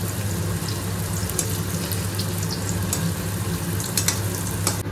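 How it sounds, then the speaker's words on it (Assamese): Food frying in a pan in a home kitchen, a steady dense sizzle running continuously throughout with occasional crackles and no talking. "এইখিনি ধুনীয়াকৈ ভাজিবলৈ দিয়া হৈছে আৰু।"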